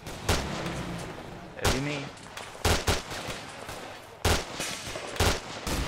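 A C9 light machine gun fires loud, separate bursts of shots spaced a second or so apart in a military exercise, with a short spoken line between them.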